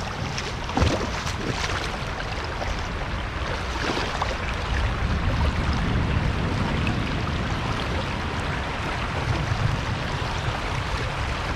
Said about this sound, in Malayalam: വെള്ളത്തിൻ്റെ ഒഴുക്ക് കൂടിക്കൂടി വരികയാണ്.